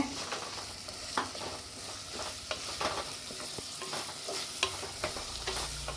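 Onions sizzle in a hot pan for a fish kurma while a spoon stirs them, giving a steady frying hiss marked by repeated scrapes and taps, close and fairly quiet.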